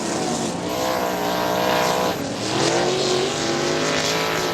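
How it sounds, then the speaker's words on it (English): Sprint cars race around Winston Motor Speedway in a Great Lakes Outlaw Sprint Series event, their engines roaring loudly and continuously as several cars sweep past close by, with the pitch rising and falling. "Sprint cars are turning"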